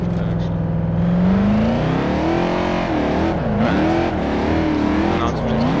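Mercedes C63 AMG W204 engine in the game Assetto Corsa, a loud V8 drone that holds steady then climbs and dips through revs, continuous throughout under faint talk.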